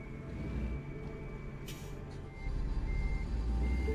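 Truck reversing beeps sound steadily while a rig backs into a trailer in a trucking video game, the regular electronic beeping riding over a low engine rumble.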